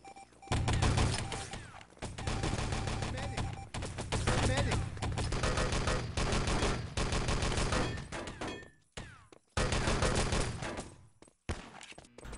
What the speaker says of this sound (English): So lots of shots from the Axis.